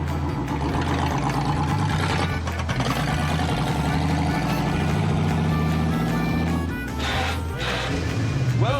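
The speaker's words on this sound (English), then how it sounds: "Let's go take it for a ride." A $300,000 Lamborghini sets off on a ride, its engine a dense, loud, close rumble that holds throughout, briefly rising in pitch, with cabin noise and occasional voices.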